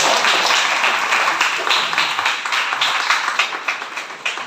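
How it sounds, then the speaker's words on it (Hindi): An audience claps loudly for Niral, a dense, steady stretch of many hands applauding together with no break. "जोरदार तालियां बजाएं"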